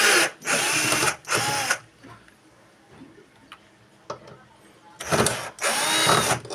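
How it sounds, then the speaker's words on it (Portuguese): Cordless screwdriver removing four screws from an Electrolux washing machine, with two loud close bursts of whirring at the start and two more after a quiet pause with faint clicks. "Vou tirar aqui esses 4 parafusos aqui, ó. Parafusadeirinha."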